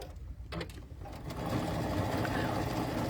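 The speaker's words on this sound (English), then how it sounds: "And I'm stitching using a 1/4 inch seam." A sewing machine stitches a quarter-inch quilt seam, starting after a short pause and then running steadily with a continuous whirring hum, fairly close and moderately quiet.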